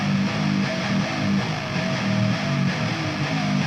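A pitch-shifted, octave-down guitar layer run through an amp simulator in a metal arrangement, a thick, sludgy, sustained low drone that holds steady and fairly loud throughout with no talking.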